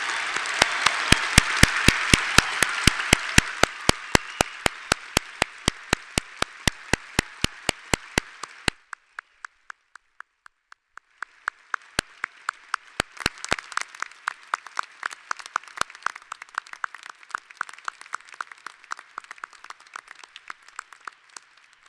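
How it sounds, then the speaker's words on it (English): Audience applause at a graduate college commencement for doctoral degree recipients, a big crowd's clapping that fades briefly, then swells again, with sharp regular clicks cutting through the applause. "Let's have a round of applause for the doctoral degree recipients."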